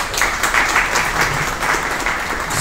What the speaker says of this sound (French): Encore une fois, sur vos applaudissements.